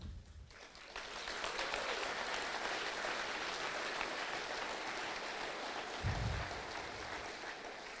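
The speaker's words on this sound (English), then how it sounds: "So let's give them a round of applause." Audience applause for the Air National Guard Band of the West Coast at a concert, a steady wash of clapping that holds for several seconds at a moderate distance, with a brief low thump near the end.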